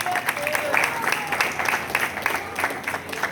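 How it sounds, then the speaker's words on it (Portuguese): A church congregation applauds in a dense, steady wash of clapping, with a few voices and a faint tone mixed in underneath. "Aplauda Jesus."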